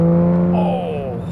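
A manual Aston Martin DBS engine hums steadily while driving, its pitch climbing as the revs rise near 4,000 RPM; smooth, close and loud, with no talk.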